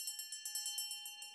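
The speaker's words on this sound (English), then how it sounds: "The bell rings for a successful deal at a call center." A call-center bell rings for a successful deal, a rapid, bright metallic trill of about a dozen even strikes in just over a second, steady and fairly faint, with no voices.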